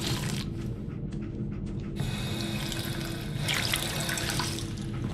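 Water runs steadily from a faucet into a sink inside a vault in Fallout 4, a continuous splashing hiss that swells briefly louder toward the end.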